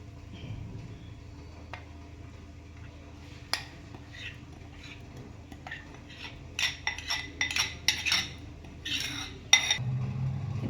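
A spoon scrapes and clinks against a greased metal pan in a quick run of short strokes, close by, pouring in barnyard millet dhokla batter, over a low steady background hum.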